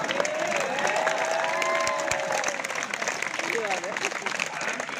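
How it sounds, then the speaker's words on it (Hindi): Audience applause at a Hindi poetry gathering (kavi sammelan), a dense wash of clapping from a large crowd that holds steady, then thins slightly while someone speaks over it. "मेरे को मालूम था इस पे ताली बजाएंगे।"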